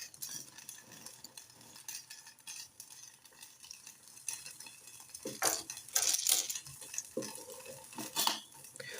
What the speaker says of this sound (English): it sounds like I'm frying up some chicken the way this candle going off